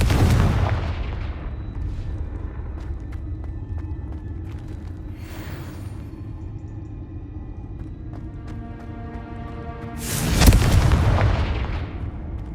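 Confringo fire spell from the Hogwarts Legacy video game, a loud boom at the start and another deep explosive blast near the end, with a low rumble between and little talk.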